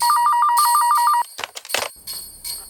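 An electronic phone ringtone trills in quick even pulses for about a second before cutting off, leaving a few sharp handling clicks and low background hiss.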